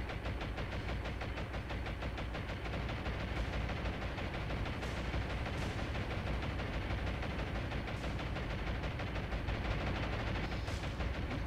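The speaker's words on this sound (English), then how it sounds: "Where are the anti-aircraft guns that are shooting?" Anti-aircraft guns hammer away in a naval combat game, a rapid, relentless machine-gun rattle sustained for the whole stretch with an engine-like rumble beneath and occasional sharper high cracks.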